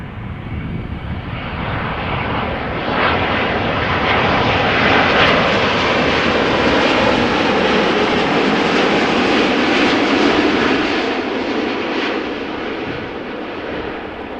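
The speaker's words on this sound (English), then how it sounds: "don't miss the TUI Dreamliner that is arriving from Bonaire" A TUI Boeing 787 Dreamliner arriving at Amsterdam Schiphol from Bonaire roars loudly and steadily overhead. The broad jet noise swells as it passes and then fades slightly, with no voices over it.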